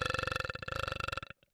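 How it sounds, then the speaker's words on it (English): A long, loud burp with a rapid pulsing rattle that lasts over a second and ends abruptly, followed by a faint short tail. "Oz also burps with all of her essence."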